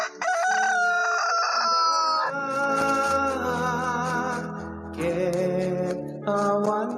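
A rooster crows repeatedly in a Filipino radio program broadcast from Baguio, loud harmonic calls sitting over background music and jingle audio without talk.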